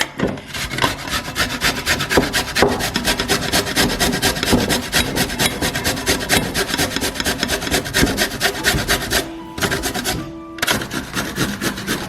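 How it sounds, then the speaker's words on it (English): Carrots being grated very finely on a small grater make a fast, continuous rasping scrape in quick rhythmic strokes, close and fairly loud, with two short pauses near the end. "We're gonna grate our carrots up very finely"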